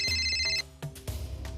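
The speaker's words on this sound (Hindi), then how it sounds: "ये घर पे कोई फोन क्यों नहीं उठा रहा है?" Telephone ringtone ringing unanswered inside a house, a bright electronic ring that repeats and then breaks off, followed by scraping background noise.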